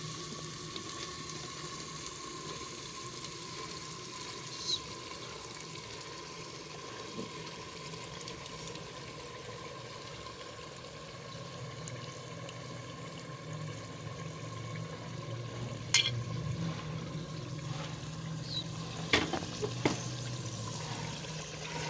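Chicken liver frying in a handi with spices, a steady low sizzle with faint bubbling and occasional sharp clinks near the end, with no voices.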